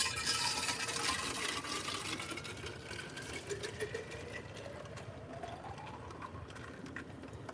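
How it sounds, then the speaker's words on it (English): Ice pours into a metal cup in a steady, rattling, hissing stream, its tone rising as the cup fills, heard alone without talk. "Y'all know what that mean when y'all hear that ice pouring in that metal cup."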